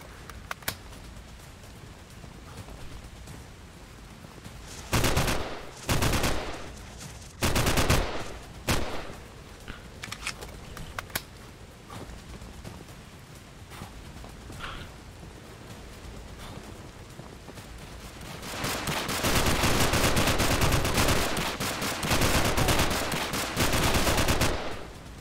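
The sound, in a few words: gunfire in the video game Frost League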